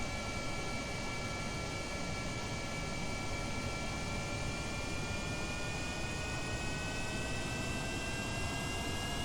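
Steady, dense jet-engine roar from a spaceplane running reverse thrust in Kerbal Space Program, a continuous loud whine with high tonal lines held evenly throughout, no voices.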